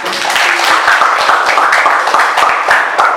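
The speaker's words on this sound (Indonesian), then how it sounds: "Kita kasih tepuk tangan untuk kawan kita." Classmates in a classroom clap for a fellow student, producing a dense, close patter of hand claps that runs steadily for a few seconds.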